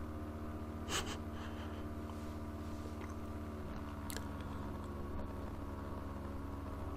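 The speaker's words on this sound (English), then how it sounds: "You're gonna have to deal with a lot more engine noise this time" A motorcycle engine drones steadily while riding through New Zealand countryside, a continuous low hum with faint harmonic whine and a couple of brief clicks near the microphone.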